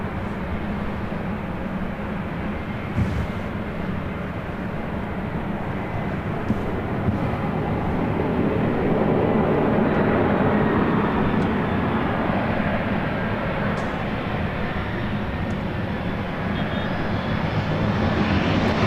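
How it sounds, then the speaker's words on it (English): A United Express SkyWest Embraer E175 jet arriving from Fresno at LAX on the north side, a loud, steady broadband engine roar that swells slightly midway and holds for the whole stretch with no voices. "Next arrival here on the north side, United Express, SkyWest, flight 5307."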